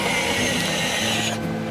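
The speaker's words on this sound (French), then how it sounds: "Et là, on a le volant qui s'efface entièrement dans la planche de bord." The steering wheel of a Peugeot e-Legend concept car retracts into the dashboard with a smooth, close electric motor whir and faint mechanical clicking, ending with a brief drop as it stops.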